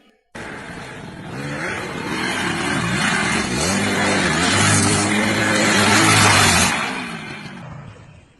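A motorbike engine revs up hard and then rides off, a loud close rising whine with shifting pitch that holds for several seconds before fading quickly away.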